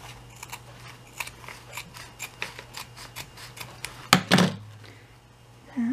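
Scissors trim a fabric cover wrapped over chipboard for a handmade junk journal, making a quick series of crisp, close snips, then a louder clunk and cut partway through in an otherwise quiet room.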